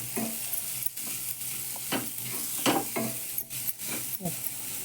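Grated coconut being stirred and roasted in a pan while making sweet wheat porridge, with a steady soft sizzle and repeated scraping strokes of a spoon, close and moderately loud.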